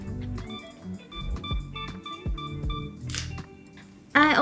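A single-lens reflex camera on a timer, a series of short electronic beeps counting down followed by the sharp mechanical shutter release near the end.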